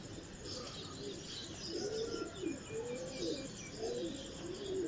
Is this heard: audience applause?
no